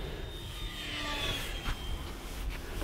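A miniature P-51D Mustang RC warbird flies at full throttle down a runway, its small electric motor giving a thin, high whine that swells and fades slightly as it passes, heard alone.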